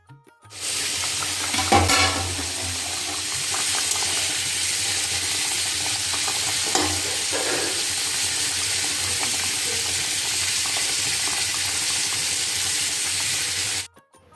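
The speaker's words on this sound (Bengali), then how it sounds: "তো চিংড়ি মাছ ভাজছি বন্ধুরা" Prawns fry in a pan at home with a loud, continuous close sizzle over roughly thirteen seconds. A few brief clatters break it, and there is no talk.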